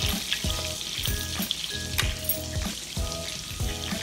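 Lamb chops laid into hot butter and olive oil with garlic and rosemary sizzle steadily, punctuated by sharp crackles and spits of fat at a close, moderate level, with no talk.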